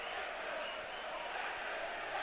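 A sellout capacity football crowd fills the stadium on a Friday night at the Dundee derby, making a dense, continuous roar with no break.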